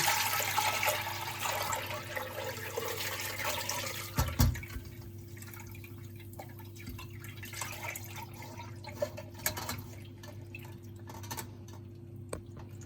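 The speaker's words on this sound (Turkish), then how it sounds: "Şimdi onu süzme, e, süzmemiz gerekiyor." Homemade şalgam, a fermented turnip juice made with carrots, turnip, bulgur and chickpeas, being strained: steady liquid trickling and dripping throughout, with a brief louder splash around the middle and no talk.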